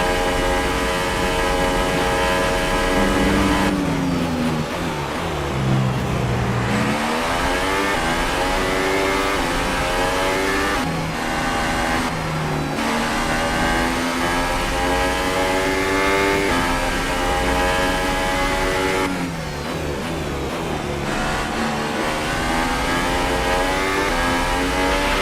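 Formula 1 cars lap a rain-soaked circuit in a racing video game, the engine whining and rising through gears, dropping sharply on downshifts and surging again, loud and continuous with no speech.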